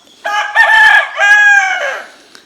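A Chiruvidai native rooster on a free-range farm crows loudly and close, a two-part drawn-out call with a rising start and a trailing finish, followed by a faint cluck.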